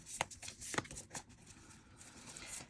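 Someone shuffles a deck of tarot cards for a pick-a-card reading, giving a few soft, papery flicks and a light rustle, faint and close, with no talking.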